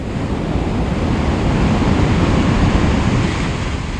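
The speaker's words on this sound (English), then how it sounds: "When waves break like this" Ocean waves breaking against a coastline near a convex headland, a continuous roaring wash of surf with wind rushing across the microphone, loud and unbroken.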